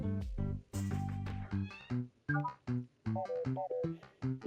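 Slimes in the video game Slime Rancher 2 give a quick series of cat-like meows at varied pitches, loud and close, with no talking over them.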